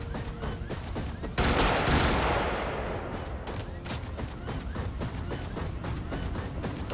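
Rapid bursts of mech gunfire in Brigador, a fast rhythmic chatter of shots with a heavier blast in the middle that fades, then steady repeated firing continuing to the end.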